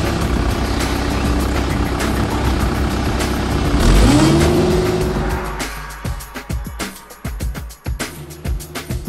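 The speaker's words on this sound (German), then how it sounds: "Ich werde jetzt mit diesem kleinen Mini-Bagger fahren." Small mini excavator's diesel engine running as it drives, a steady loud drone that swells and rises in pitch around the middle, then drops into irregular knocks and clanks of the tracks.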